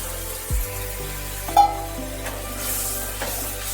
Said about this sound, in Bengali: এবার মশলার যে বাটিটা ছিল সেই বাটি ধোয়া জলটা আমি এর মধ্যে ঢেলে দিলাম। আর একটু জল এর মধ্যে আমি দিয়ে দিচ্ছি